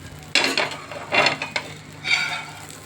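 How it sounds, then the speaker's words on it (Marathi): Dosa batter sizzling on a hot pan, heard as three or four short hissing bursts with clattering, scraping contact in between, fairly close and clear, no talking. "आणि हा आपला डोसा इथं बनत आहे."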